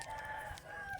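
A fighting cock crows once in a brief, faint, drawn-out call heard alone without any talk.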